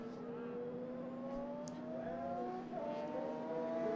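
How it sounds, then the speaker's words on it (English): A historic racing motorcycle on slick tyres comes through the final corner at a classic race festival: a steady droning engine note that climbs in pitch, with a faint commentator's voice underneath and a slight rise in loudness at the end. "I think that's Mike Meskel on his Rock Yamaha coming through the final corner"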